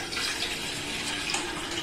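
Tap water running steadily into a pot for mint tea, a close, continuous splashing stream with no talk over it.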